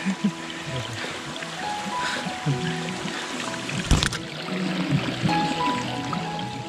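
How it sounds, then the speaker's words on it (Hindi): Water being collected from a mountain stream on a Himalayan trek near Triyuginarayan village, a steady rushing and trickling flow, with faint murmured voices and a brief knock partway through. "गुरु भाई पानी भर रहे हैं।"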